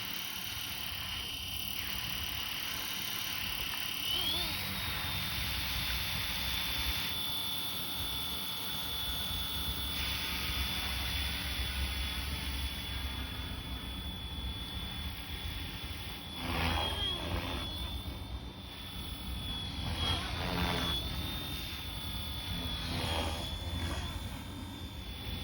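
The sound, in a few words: Flywing FW450L RC helicopter rotor head speed cranking up in Acro mode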